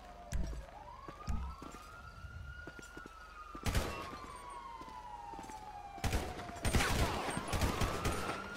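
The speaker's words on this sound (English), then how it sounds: "Subject still firing at me." Rapid bursts of gunfire crack over wailing police sirens during a night shootout in the Grapeseed area of GTA V with the LSPDFR police mod, loud shots clustered near the start and again toward the end.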